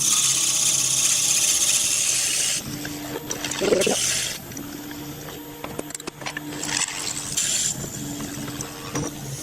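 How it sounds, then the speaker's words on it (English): A power drill bores into a cocobolo wood pen blank, a steady whir that stops and restarts in short bursts with scraping and knocks of handling between runs, moderately close. "So, we'll drill it out."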